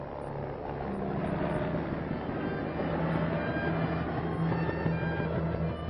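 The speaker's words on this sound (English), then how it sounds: "Army helicopters are speeding the emergency cases to the medical center." A 1950s Army helicopter drones overhead carrying emergency cases, with a steady, heavy rotor beat and engine hum, continuous and fairly loud, like an older recording.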